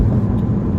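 Steady, loud low rumble from a 2017 Ford Focus RS engine held in the mid-range RPM band, a continuous droning pull heard from inside the car with no voices.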